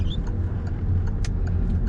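Car pulling away in second gear after a gentle clutch release, a low steady engine hum with faint road noise and a brief clicking tick midway, fairly quiet and continuous.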